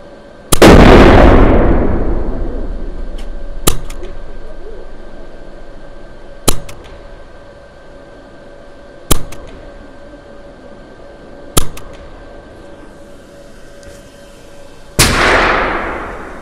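Sharp shots from an Edgun Leshiy 2 PCP air rifle firing 3.2-gram pellets at an indoor range, six in all, spaced a few seconds apart with quiet background between them; the first and last are loudest.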